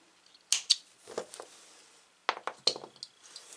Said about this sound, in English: And then you cut it.